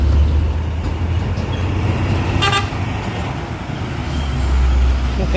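A truck engine runs with a steady low rumble close by, and a short horn toot sounds about midway through.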